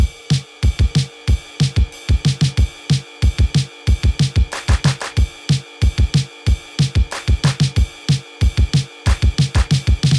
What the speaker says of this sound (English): the drum pattern is going to sound like this